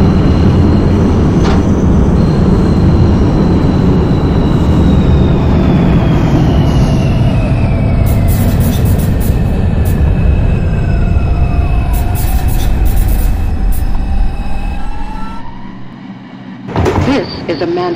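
Manhattan-bound 2 subway train in Brooklyn running near Eastern Parkway, a steady loud rumble of wheels on rails with rising and falling squeals, continuing throughout before a brief dip near the end.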